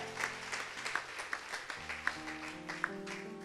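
A church congregation clapping during a Sunday service, a rhythmic beat of hand claps over sustained organ or keyboard chords.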